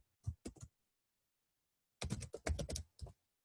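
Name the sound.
typing on a computer keyboard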